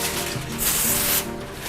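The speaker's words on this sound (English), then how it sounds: "Spray your foil" Cooking spray hisses onto a foil-lined pan in a home kitchen, one steady close burst lasting about half a second over a low background hum.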